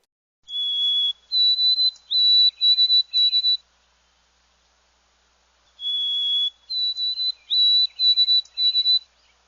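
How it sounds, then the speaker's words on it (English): White-throated sparrow song, two clear whistled phrases each opening with a long pure note followed by a rising series of short repeated notes, separated by a pause of silence. "The white-throated sparrow sounds like it's saying, "Oh, sweet Canada, Canada, Canada.""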